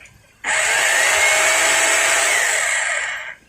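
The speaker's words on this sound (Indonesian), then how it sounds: "sekarang kita coba di mode bor biasa." A rotary hammer drill runs in plain drilling mode, spinning up sharply into a loud, steady high-pitched whine for about three seconds before cutting off, heard up close and alone.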